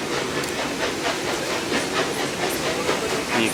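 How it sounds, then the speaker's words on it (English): Walt Disney World monorail passing in the distance near the Contemporary and Bay Lake Tower, a steady broadband rushing hiss with faint rail-like clatter, continuous and fairly even throughout with no talk. "You can see the monorail"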